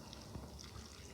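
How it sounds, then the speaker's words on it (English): Liquid pours in a steady, faint trickle into a bowl of cottage cheese and fenugreek leaf fritter batter, topping it up to about 100 ml, continuous and close with no talk. "Pour in around 30 to 40 ml more for a total of 100 ml."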